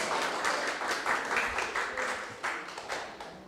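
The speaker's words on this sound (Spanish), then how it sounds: "Un aplauso, sí." A church congregation gives a soft, somewhat distant round of applause that keeps an even, continuous patter of many hands throughout.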